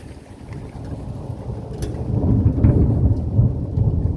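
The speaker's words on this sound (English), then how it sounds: "Oh, that's a thunderstorm." A thunderstorm with heavy rain and deep rumbling thunder that builds and grows louder midway, continuous low roar under steady rainfall with no voices.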